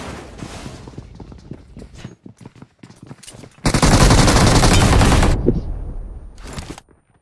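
Rapid automatic gunfire from the mobile battle royale game BGMI (PUBG Mobile): scattered shots and movement sounds at first, then a loud sustained burst of about two seconds, followed by a shorter burst.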